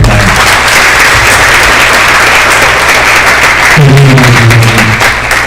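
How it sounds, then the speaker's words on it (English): A school crowd applauds steadily at a college signing event in a gym. The clapping is dense and continuous, with cheers and voices mixed in throughout. "let's give her a big another round of applause"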